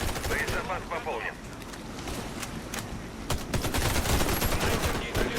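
Dense bursts of automatic gunfire with whizzing bullets in the shooter game Warface, continuous crackling volleys, loud and close, with a voice heard briefly near the start.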